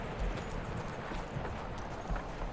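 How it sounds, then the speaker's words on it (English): Rhythmic hoof clip-clops of a horse in the Western video game Evil West, steady paced thuds over a soft ambient bed, fairly quiet. "My horse is here."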